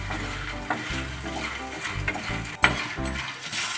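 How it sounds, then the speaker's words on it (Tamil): Turkey berries frying in hot oil, a close, bright sizzle with stirring scrapes and a sharp clink of a utensil against the pan partway through, no voices. "எண்ணெயிலே வறுத்து எடுத்துக்கலாம் நம்ம சுண்டைக்காவை"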